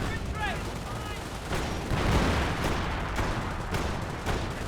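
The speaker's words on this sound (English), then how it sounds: "it's hard to hear the actual artillery being fired from the actual barrage" An artillery barrage in the World War II strategy game Company of Heroes, with repeated bursts of gunfire and heavy blasts layered under a commentator's talk.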